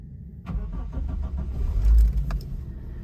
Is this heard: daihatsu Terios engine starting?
yes